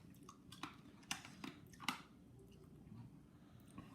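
Someone crunches Carolina Reaper hot block candy, giving sharp, irregular bites and crackles close up, with quiet chewing between them and no talking.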